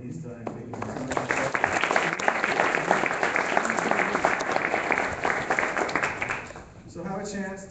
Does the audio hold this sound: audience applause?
yes